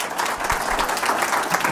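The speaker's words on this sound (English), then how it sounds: "Yeah, clap for that." An audience claps at a trauma healing conference, a dense and steady patter of applause that carries through the whole short stretch.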